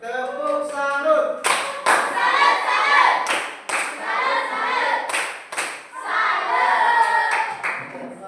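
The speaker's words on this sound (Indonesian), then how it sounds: "Tepuk salut." A group of people claps in a rhythmic, patterned applause cheer, loud and close, with bursts of hand claps and thumps in repeated accented phrases and voices calling along amid the claps.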